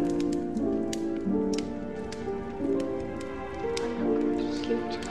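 Heavy rain falls steadily at night outside a cozy Christmas coffee shop, a soft continuous patter with scattered taps of drops under gentle background music.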